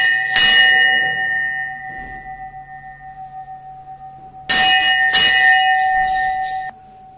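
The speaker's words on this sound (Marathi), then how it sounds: "आणि घंटी वाजवायला चालते का?" A temple bell at a pilgrimage shrine in Akkalkot and Ganagapur rings out with three clear, close strikes, one early and two a second apart later, each leaving a bright metallic tone hanging in the air. No one speaks.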